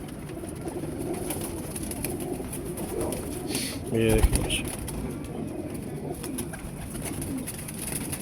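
Pet pigeons coo and call close by during a Teddy pigeon game, a brief burst of bird sound standing out over steady background noise while someone talks.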